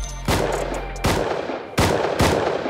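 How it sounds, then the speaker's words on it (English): Gunfire from a scientist NPC in the console edition of the survival game Rust: four sharp, loud shots spaced unevenly over a few seconds, each ringing out briefly before the next. "Getting shot by the scientist."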